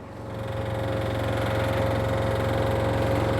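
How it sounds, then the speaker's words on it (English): A hydraulic ramp on a tri-axle drop deck widening trailer closes with a steady, pulsing engine-driven hum and a sustained whine, swelling slightly at the start and then holding level and fairly loud, with no voices. "Closing this ramp in now, you can see how uniformly it closes"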